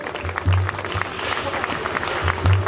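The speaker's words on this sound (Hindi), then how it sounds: "तालियों में दम कम है" Audience clapping at a spiritual discourse gathering, a moderately loud, uneven patter of hands with a low hum running beneath it, lasting under three seconds.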